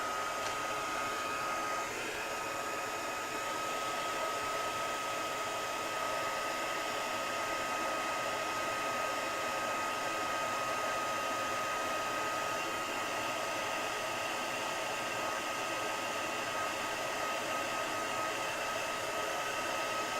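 A heat gun blows steadily over watercolor paint for a long stretch, a constant loud whooshing hiss with a faint whine and no talk.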